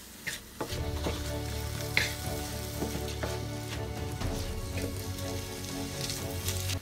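Ground pork sautés in hot oil in a pan, giving a close, steady crackling sizzle broken by intermittent scrapes and stirring clicks.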